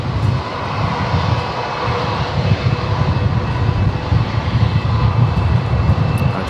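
A Qantas Airbus A321neo jet airliner on its takeoff roll at Brisbane International Airport, bound for Sydney, gives a steady, powerful, loud engine roar with deep rumble, heard fairly close and continuous, with no speech.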